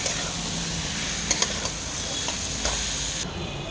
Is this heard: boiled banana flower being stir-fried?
yes